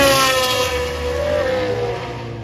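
A Ferrari 360 Challenge race car engine screams at high revs at a racetrack, its pitch sliding and sustained, heard from a distance with some echo.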